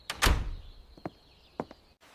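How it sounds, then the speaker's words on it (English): A front door being closed and locked: one solid thud followed by a couple of sharp, faint latch clicks, heard up close with no talking. "I am closing and locking the front door."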